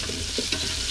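Onions sizzle and get stirred in a hot pan in a rural Shan kitchen in Kengtung, a brief close frying hiss with a few scraping stirs.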